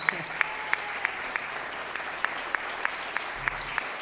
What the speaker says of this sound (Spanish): Un fuerte aplauso para el cumpleañero.